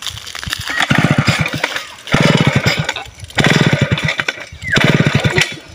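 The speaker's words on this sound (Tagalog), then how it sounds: "Babanatan ko ng chinso." A chainsaw cutting tree stumps runs at close range, its engine revving hard in four long surges with brief dips between them.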